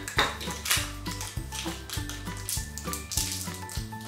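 A spoon stirs and scrapes vanilla and chocolate ice cream together in a bowl, giving repeated clinking, tapping strokes in a steady rhythm, close and fairly loud, with a faint tonal ring and no talking.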